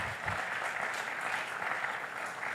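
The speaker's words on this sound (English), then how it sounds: "Please a round of applause for Dr. Eniola." Audience applause at an Independence Day talk, a steady wash of clapping that fills the room for a few seconds at a fairly soft, even level with no voices over it.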